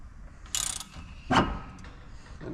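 A wrench loosening the pinch bolt on a 2020 Porsche GT4 Clubsport shock absorber, with two short metallic ratcheting clicks heard close up in a quiet garage.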